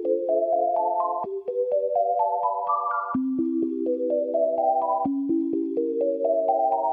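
A bright synth melody plays rising stepped note runs through a Say Again preset effect plugin, each short note echoing cleanly in a steady repeating pattern with no voices.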